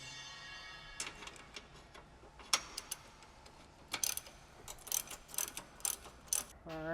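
A hand ratchet loosens sway bar bolts on an S197 Mustang, its pawl clicking in short irregular bursts close by, with scattered metallic taps and a quick rising whir at the end.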